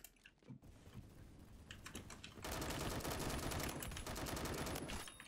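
Rapid automatic gunfire from a weapon in the video game Phantom Forces, sparser at first and then a dense, loud continuous burst in the second half.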